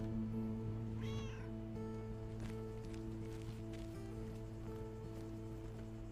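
A cat character in a video game lets out a single short, plaintive meow near the start, heard over a steady droning game soundscape with soft rain-like patter.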